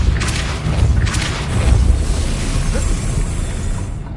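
A Depulso spell cast in the video game Hogwarts Legacy, a deep rumbling boom with airy whooshes, loud and close, lingering for several seconds with no voices.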